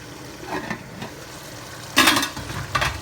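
Pasta sauce simmers and bubbles in a pot with a steady low sizzle, punctuated by a couple of brief metallic stirring or lid sounds, the loudest burst near the end, close and alone without talk.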